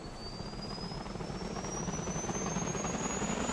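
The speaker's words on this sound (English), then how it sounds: "There's a helicopter here, it would appear." Helicopter in GTA 5 during a British police mod patrol, a steady rotor drone with a rising turbine whine holding close and fairly loud throughout, no talk over it.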